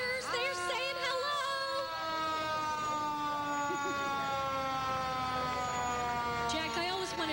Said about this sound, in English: especially when the fire truck comes around, the sirens